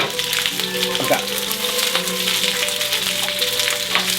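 Onion, carrot and marrow bones browning in a frying pan give a loud, dense, continuous sizzle with occasional spatula scrapes, heard up close.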